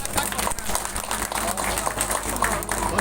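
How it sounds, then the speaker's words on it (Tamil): An audience claps for a music band at a live stage event in Thirukovilur. The applause is a dense, steady patter that holds for the whole few seconds. "எங்க வாத்திய குழுவிற்கு ஒரு பலமான கைத்தட்டல் கொடுங்க சார்."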